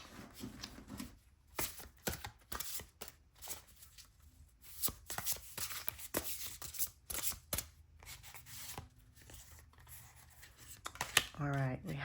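A deck of tarot cards is shuffled by hand in a series of quick papery riffles and soft slaps, close and fairly quiet, with a few pauses between bursts and a voice briefly at the end.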